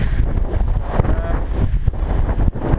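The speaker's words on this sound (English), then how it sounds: "it's damn windy" Strong wind on a mountain on the Yakedake hike roars and buffets continuously, with gusty rumbling bursts battering the microphone throughout.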